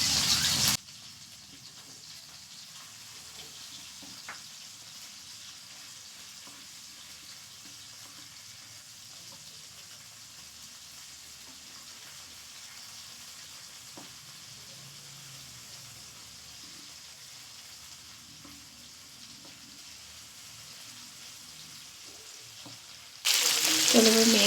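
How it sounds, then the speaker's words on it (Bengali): Fish frying in oil gives a steady, soft sizzle that runs nearly unchanged throughout, with faint scattered clicks and no voices, ending in a brief louder burst. "মাছগুলো ভাজা হয়ে গেছে"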